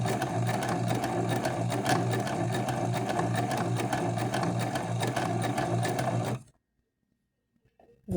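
A sewing machine stitches fabric under the presser foot in a loud, close, steady whir with fast rhythmic needle ticks, running unbroken for about six seconds before stopping abruptly into near silence.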